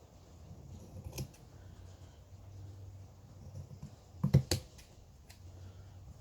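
A few crisp metallic snips, a lone one early and then a quick cluster of sharp cuts, close up against a quiet room background.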